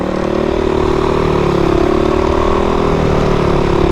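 A motorcycle engine roars loudly and continuously at close range, holding a steady, slightly wavering drone as the rider pops a wheelie, with no one speaking.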